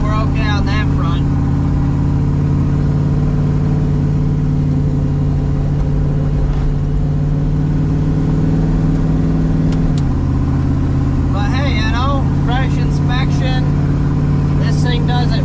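A Ford Fairmont street car's engine drones loud and steady from inside the cabin, rising in pitch as it accelerates, with a shift around the middle, while people talk over it.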